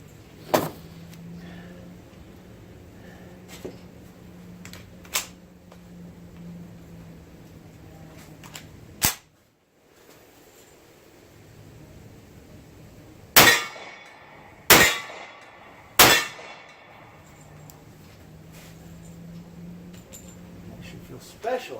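Aero Survival Rifle with a TNW handguard firing a short string of about three rounds, sharp loud cracks spaced apart with a separate earlier shot, over outdoor background and occasional talk.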